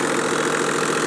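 A 1996 Toyota Land Cruiser VX 80 series with the 4.2-liter 1HD-FE inline-six diesel idles steadily up close, a dense, slightly clattery drone with no break.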